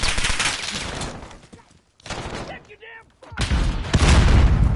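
Gunfire in Call of Duty: Modern Warfare bursts loudly in rapid automatic volleys. A brief lull separates the bursts before heavy firing returns close and booming, with talk mixed in.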